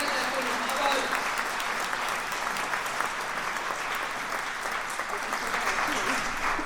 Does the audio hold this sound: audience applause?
yes